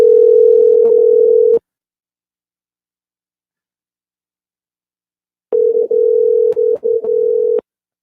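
A telephone call tone goes unanswered: a steady loud electronic beep sounds for about a second and a half, then silence, then another longer stretch of steady tone with brief breaks, clear and close.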